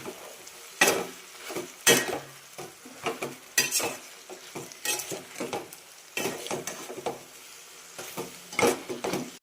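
Capsicum curry stirred in a pan, repeated scraping and clattering of a spoon against the pan in irregular bursts over a faint sizzle, close and fairly loud.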